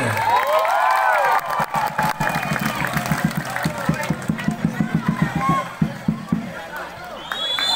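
Crowd at a volleyball final in Bali applauding both teams before the match, a rhythmic run of claps under cheering and babble with a voice talking over the top.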